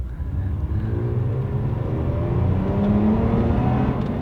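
Toyota Tacoma pickup truck accelerating hard in Sport Plus mode with a pedal throttle controller fitted, its engine roaring as a steady, loud, rising drone close by with no talk.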